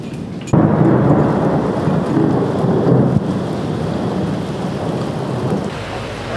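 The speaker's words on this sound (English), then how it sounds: "holy crap, that is thunder and lightning" Heavy thunderstorm with rolling thunder and steady rain at Kotor, Montenegro, a loud continuous rumble that starts abruptly and holds for several seconds.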